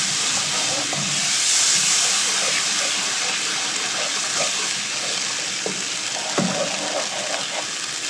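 Water poured into a pan of steak and onion gravy as it thickens, giving a steady loud hiss and sizzle throughout with a few small clicks and pops; no talk over it.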